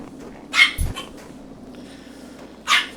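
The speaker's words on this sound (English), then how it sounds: "the dog is barking at the other dog or at the cat" A dog in a boar-hunting game barks twice, a sharp close bark near the start and another near the end, over a low steady background rumble.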